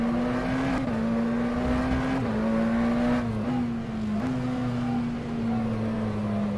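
A McLaren Senna GTR race car engine at Circuit of the Americas in rFactor 2 drones loudly and steadily, its pitch stepping up and dipping slightly through gear changes, with no speech over it.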